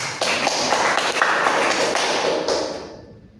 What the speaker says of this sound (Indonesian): sangat bagus ya teman-teman, beri aplaus gitu